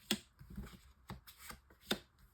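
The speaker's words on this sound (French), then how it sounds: "On va faire un tirage en 9 cartes." Oracle cards are shuffled by hand for a nine-card reading, giving three quick riffled bursts with softer rustling between them, close and quiet.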